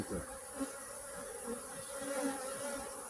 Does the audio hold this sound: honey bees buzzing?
yes